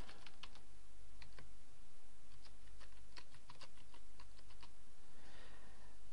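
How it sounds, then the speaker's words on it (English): Someone types a username and password on a computer keyboard while logging in to a new WordPress install. Clusters of crisp keystrokes come in irregular bursts, close and clear over a steady low hum, with no talking. "enter the username and password"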